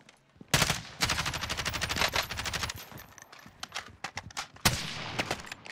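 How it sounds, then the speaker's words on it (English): Rapid bursts of automatic gunfire in a video game, dense rattling volleys followed by sparser single shots and a final loud burst, close and loud with no talking. "Who is he shooting at?"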